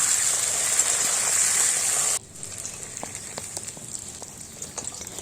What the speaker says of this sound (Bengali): এগুলো তেলে দিয়ে হালকা করে ভেজে তুলে নেব